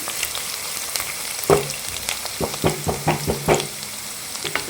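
Onions fry in hot oil for a yogurt chicken dish: a steady crackling sizzle with a run of clinking spatula knocks and stirs against the pan, heard close with no voices.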